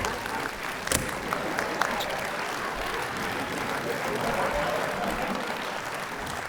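A studio audience at a game show claps for a participant, producing dense, sustained applause with a few sharper claps near the start, at moderate level, with people speaking over it.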